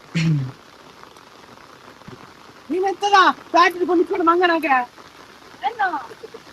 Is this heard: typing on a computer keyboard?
no